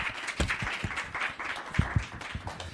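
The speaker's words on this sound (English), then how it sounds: "I want you all to give him the biggest round of applause." An on-stage audience at an Ignite Talks event at unDavos 2026 applauds a speaker with a steady, fairly close patter of many clapping hands, no speech over it.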